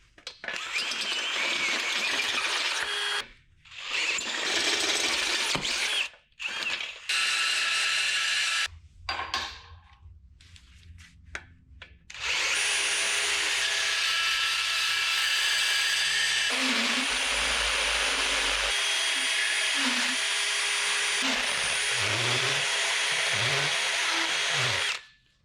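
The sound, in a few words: drilling out a hole with a burr bit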